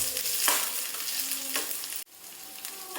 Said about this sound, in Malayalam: ഇവയെല്ലാം ഒന്ന് വഴന്ന് വരട്ടെ.